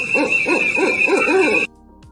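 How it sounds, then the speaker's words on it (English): An owl hoots in a steady, rhythmic series of five or six loud, clear calls, then cuts off abruptly into near silence. "Owl."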